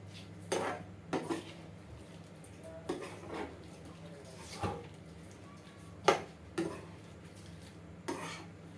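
A utensil stirs shrimp with sweet chili sauce ingredients in a cooking pan, giving scattered metallic clinks and scrapes every second or so over a steady low hum, with no talk.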